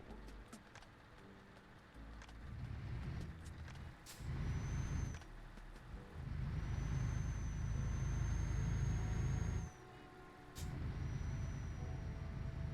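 Traffic cars in Euro Truck Simulator 2 sound long, steady tonal horn blasts during a jam on a flat Iberian road, layered over the low rumble of a truck engine with brief air-brake hisses.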